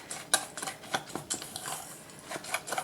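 Walnut and butter streusel topping being mixed in a bowl, with a utensil scraping and clinking against the dish in quick irregular strokes, close and fairly quiet.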